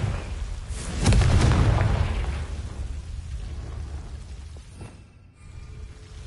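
A Confringo blasting spell bursts with a deep, loud explosive boom in the game Hogwarts Legacy, then rumbles and fades into the background ambience, with a couple of faint thuds following.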